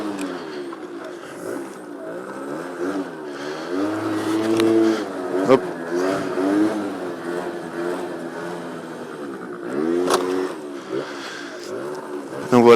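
50cc moped engine revving as the rider pulls a wheelie, a buzzy two-stroke whine rising and falling in repeated surges, with someone talking over it throughout.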